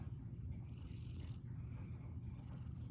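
A cat purrs softly and continuously, a low rumbling vibration, close by and quiet, with no other sounds.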